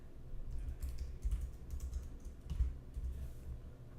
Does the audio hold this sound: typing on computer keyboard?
yes